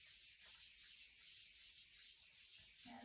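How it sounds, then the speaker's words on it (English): Palms rub together in circles during a yoga therapy session, a soft, steady, close swishing hiss with no talking. "Let's bring our palms together and rub the hands together in a circle."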